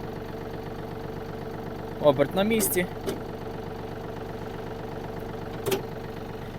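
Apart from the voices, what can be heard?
Yanmar AF-250 Japanese mini tractor engine running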